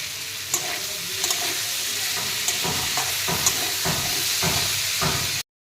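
Spices and potatoes with salt sautéing in a pan for a catfish curry base, a loud, steady close sizzle with rhythmic spatula scrapes every second or so, ending abruptly.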